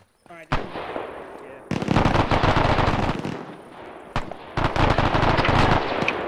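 MG42 machine gun fire in a World War II Operation Market Garden video game: loud, rapid bursts of automatic fire repeating over several seconds, close by, with a voice briefly audible under the shooting.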